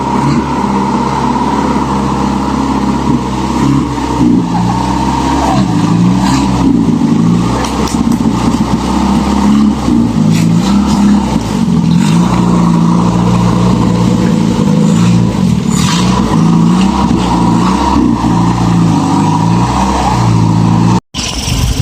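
A loud Tamiya car engine on a test drive, droning and revving up and down continuously, close by, with rising and falling pitch as it accelerates.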